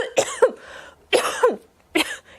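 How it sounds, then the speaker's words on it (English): Three loud, close coughs come in quick succession, each a harsh two-part bark, with brief silences between. "Yes, I have a cough."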